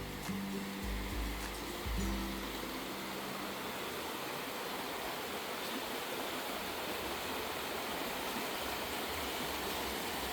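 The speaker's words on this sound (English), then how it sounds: "A little path takes you to a little river here." A small river near Townsend, Tennessee flows in a steady broadband rush that fills the whole clip, with a few low rumbles near the start and no talking.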